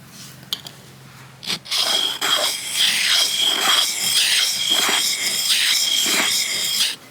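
A blade is worked flat side down on an oiled sharpening stone, giving a steady run of close, rhythmic rasping strokes after a few faint knocks.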